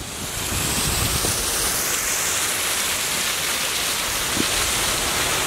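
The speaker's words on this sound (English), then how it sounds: "It's starting to rain a little bit harder." Heavy rain falling hard at an ancient Incan city outdoors: a loud, steady, dense hiss with wind-like rushing throughout, no voices.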